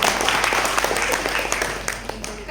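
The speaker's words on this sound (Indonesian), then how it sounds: "Tepuk tangan untuk MSI." An audience at a network-marketing leadership training session claps for MSI, a dense, steady round of applause filling the whole stretch at moderate loudness, with faint talk mixed in.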